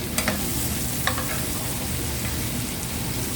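Bottle gourd (upo) drops into a pan of frying ground pork, setting off a loud, continuous sizzle with a few clatters of stirring near the start.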